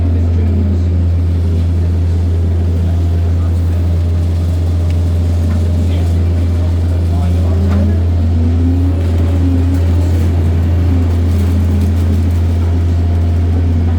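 An ADL Enviro 200 MMC single-deck bus, in a fault condition that makes a bad noise, drones loudly and steadily from up close with a strong low hum and a shifting whine, continuous throughout.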